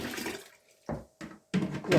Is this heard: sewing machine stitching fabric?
no